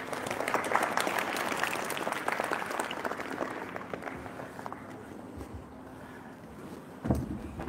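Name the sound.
audience applause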